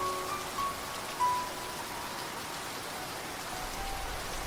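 Steady rain falls in a continuous, fairly soft patter on surfaces, with no voices.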